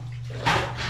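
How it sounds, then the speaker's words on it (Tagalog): Water runs and splashes briefly near a sink, with a steady low hum underneath. "Habang nag-iipon ng tubig, sasabayan ko lang na paghuhugas ng pinggan."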